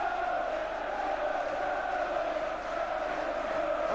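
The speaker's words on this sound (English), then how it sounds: "Applause all around the crowd from the Villa fans for a Villa side that battled and battled and battled away" Aston Villa fans applauding and calling out across a stadium after an FA Cup tie against Liverpool, a steady distant wash of crowd noise that holds without peaks or pauses.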